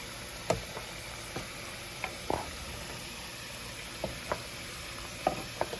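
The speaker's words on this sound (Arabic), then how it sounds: "نبدأ تو نحط المعلقة هو الكلوة والكبدة والرية، نحركهم" Kidney, liver and lungs sizzle in hot oil for a traditional Libyan qalaya, a steady crackling fry broken by a few sharp clicks and scrapes of stirring, close up with no voices.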